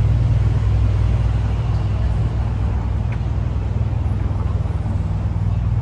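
Matte black supercar with black wheels rolling along a Paris street, a steady low engine rumble with road noise holding evenly throughout, fairly close, no distinct pass-by peak.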